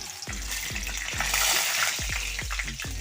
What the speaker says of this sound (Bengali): এবারে আমি তেজপাতা, 2টো শুকনো লঙ্কা আর দারচিনি, এলাচ, লং তেলের উপরে তুলে দিলাম